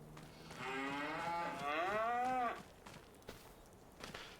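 A cow in a farming simulation game gives one long, drawn-out moo lasting about two seconds, close and clear, followed by quiet background with a few faint taps.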